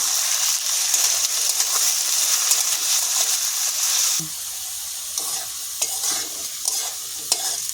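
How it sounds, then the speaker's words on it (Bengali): Potato pieces fry in fat in a pan, producing a bright, continuous sizzle. Partway through it drops lower, and spoon-stirring scrapes and clicks then punctuate the hiss, all close up. "লাল লাল করে আলুগুলো ভেজে নেব"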